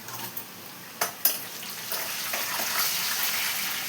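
Tempering spices sizzle in hot oil in a pan, with a few sharp crackles and pops and then a steady frying hiss that grows, close and with no talk.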